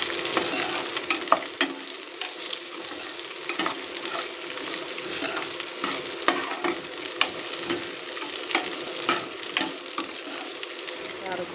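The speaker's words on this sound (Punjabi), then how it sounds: "ਮਸਾਲਿਆਂ ਨੂੰ ਵੀ ਆਪਾਂ ਤੇਲ ਦੇ ਵਿੱਚ ਭੁੰਨ ਲਵਾਂਗੇ ਚੰਗੀ ਤਰ੍ਹਾਂ" Spices roasting in hot oil for a garlic pickle, a steady broadband sizzle with scattered crackles and stirring scrapes throughout, close and even, no talk.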